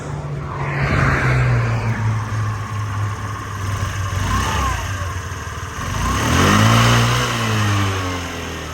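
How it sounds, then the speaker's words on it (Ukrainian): A Honda Dio AF-68 scooter engine runs close by, idling steadily, then revs up briefly twice and settles back to a smooth idle. "Гарно, тихенько, рівненько працює двигун."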